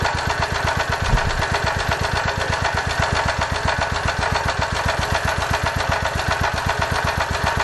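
A small generator engine running on HHO at a steady idle, its exhaust chugging in a fast, even pulse, loud and close throughout.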